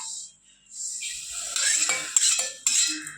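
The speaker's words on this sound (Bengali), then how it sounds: "মুগ ডালটা ভাজছো?" Moong dal stirred in a pan with a metal spoon, a run of clinking scrapes and rattles that grows busier after a short quiet start, close and fairly loud with no voices.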